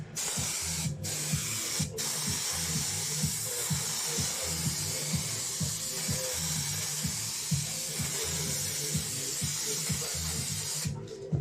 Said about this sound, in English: I'm gonna use a glue in a spray like this, and just easily put some layers on.